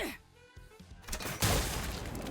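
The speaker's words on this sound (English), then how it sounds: "A blinding light and deafening explosion assault the crab shell." A game explosion in Limbus Company bursts after quieter sounds, a sudden loud blast followed by a sustained rumbling, crackling roar.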